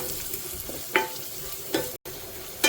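Spices being stirred in a pan with a pinch of salt while making chickpea thoran, a low sizzle under three brief scraping stirs of a spoon, close and quiet.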